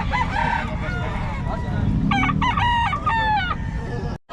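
A Boston Hen line gamefowl rooster crows in two clear bursts near the middle, close and loud over a low background rumble of a busy bird market.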